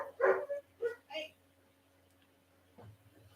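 A dog barks and yelps in a short burst of four or five sharp calls close by, then falls quiet, with a voice talking afterward.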